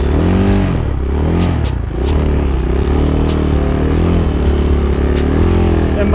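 A Chinese dirt bike revs loudly while stuck in deep snow, the engine surging and dipping in repeated bursts as the rear wheel spins, recorded up close.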